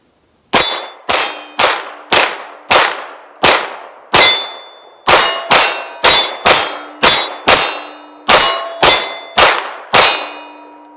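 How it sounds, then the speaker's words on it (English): An SAR9 pistol fires rapid magazine dumps: two bursts of sharp, evenly spaced shots, about eight and then about eleven, each crack ringing briefly. The shots are loud and close, with no talking. "Gonna do a couple mag dumps."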